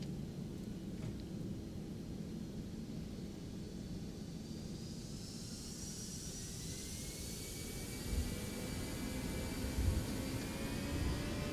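Jet engines of a Toliss A319 airliner in a flight simulator spooling up for takeoff, a steady roar with a whine that climbs and rises in pitch, with low rumbling underneath and no talking.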